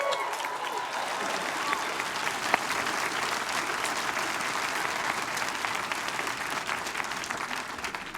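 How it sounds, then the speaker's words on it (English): A large audience at a University of Aberdeen summer graduation ceremony breaks into sustained, dense applause with cheering, filling the hall evenly throughout. "She'll be pleased she got that cheer."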